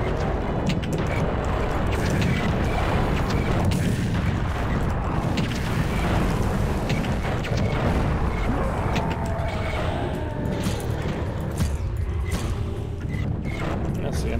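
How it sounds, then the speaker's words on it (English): A hunter's gun in the Doom mod Wrath of Cronos fires amid constant loud, dense combat noise, with booming shots and rumbling blasts running without pause; a voice talks over it. "We have a gun. That's what hunters have in this mod."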